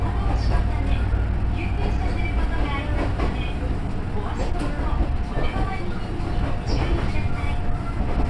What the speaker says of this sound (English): train has started